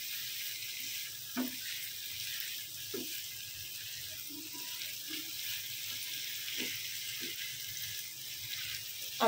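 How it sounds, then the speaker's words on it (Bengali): Potatoes sautéing with spices in hot oil in a pan for a potato and pointed gourd curry: a steady close sizzle with a few scattered knocks and scrapes of stirring, and no voices. "আলু দিয়ে মশলার সাথে ভালোভাবে কষিয়ে নেব।"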